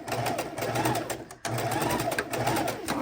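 A sewing machine runs steadily, stitching quilt pieces, with its fast rhythmic whir broken by one brief pause, close and fairly loud.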